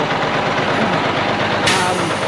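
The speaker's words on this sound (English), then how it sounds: "the engine runs, but it's not good" A 2006 378 truck with a C13 diesel and one bad, disconnected cylinder runs steadily nearby, a dense continuous engine drone with a brief hissy lift near the end and no talk.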